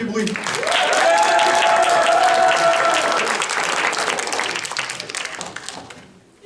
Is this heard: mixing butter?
no